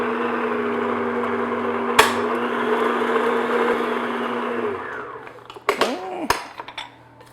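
An electric mixer beats a room-temperature egg into almond cream for almond brioche toast (bostock): a steady, loud motor whir for about five seconds that cuts off, followed by a few clattering scrapes against the bowl.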